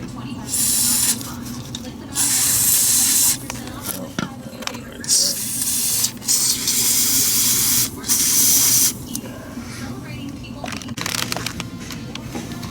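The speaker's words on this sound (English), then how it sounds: "spray your knocker loose on the nuts here" Several bursts of aerosol penetrating oil spray hiss onto nuts in short blasts, each a second or so long, close by, with quiet talk and clinks between them, during a DeLorean cooling fan install.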